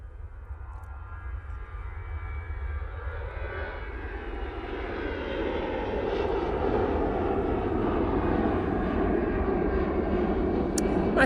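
An easyJet airliner departing Manchester Airport rumbles with a broad engine roar that swells and grows louder partway through, then holds steady at a distance.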